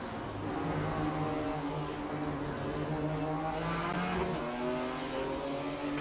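Race cars braking hard into a chicane: steady loud engine drone with shifting pitch as the cars slow, a downshift and brief squeal of tyres near the end, close and continuous with no talk.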